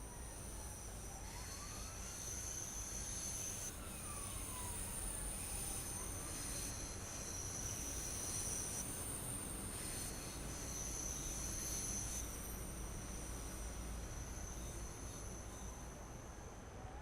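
A train in Train Sim World 4 pulls slowly into platform 11, a quiet steady rumble of wheels and motors under long high wheel squeals and whines that rise, fade and return.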